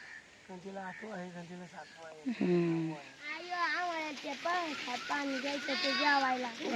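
Several sheep bleat repeatedly, wavering calls overlapping one another, with people talking nearby in between.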